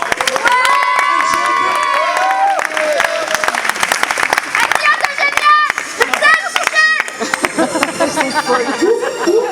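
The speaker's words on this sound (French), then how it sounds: "On les applaudit très très très très fort" A crowd at an outdoor street hip-hop show in Pornic claps and cheers for young performers, with loud scattered applause, shouting children and crowd chatter mixed with tonal music over several seconds.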